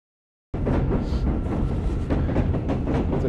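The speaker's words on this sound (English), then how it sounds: "There's a train above us." A train rumbles by on elevated tracks overhead in New York City, a loud, continuous roar with rhythmic clatter that starts abruptly and holds steady to the end.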